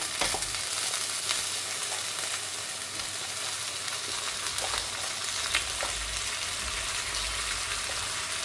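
Crab pieces fry and sizzle steadily in a pan of hot oil for a crab curry, a continuous close crackle with faint stirring scrapes and no talking.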